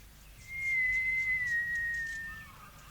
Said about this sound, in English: Well, go on. Whistle again.